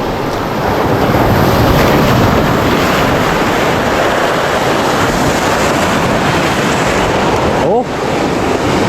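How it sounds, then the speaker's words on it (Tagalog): Big ocean waves wash and roar against a small fishing boat on a first day of fishing, a loud continuous rush with heavy wind buffeting, steady throughout with one brief dip near the end. "Sabi sobrang alon mga kaiski."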